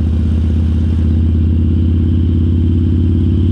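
A loud American-made motorcycle engine idles with a throbbing, rattling rumble, close by and continuous without any clear rise in revs.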